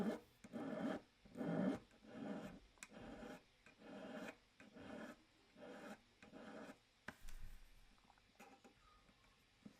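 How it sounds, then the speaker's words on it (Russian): A needle file rasps in repeated strokes across a small metal clamp part gripped in a vise, the pass-by-pass rubbing close and fairly quiet, with short pauses between strokes. "Поэтому я зажал ее в тиски и зачистил надфилем."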